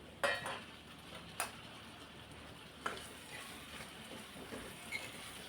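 Tomato pieces being stirred into a pot of potato chicken curry, giving a soft, steady sizzle with a few faint scraping clinks of a spoon against the pot.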